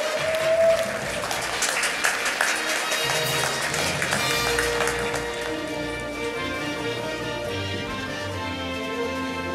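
Sustained audience applause fills a hall at a festival gala concert, many hands clapping steadily and densely throughout, with a musical tone rising underneath toward the end.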